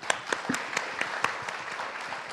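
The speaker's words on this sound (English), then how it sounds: "Give a round of applause to the panel" An audience claps for a business panel on big corporations and startups, fairly close, with a few sharp individual claps standing out above the continuous applause.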